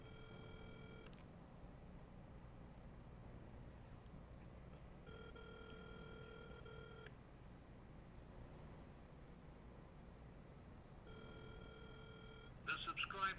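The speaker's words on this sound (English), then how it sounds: "We're calling the floor leader on his cell phone." Cell phone call to a floor leader, with a repeating electronic ringback tone in steady bursts over background chatter and low hum, ending in a brief louder clatter.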